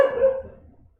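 One loud, close dog bark rings out and quickly trails off into quiet.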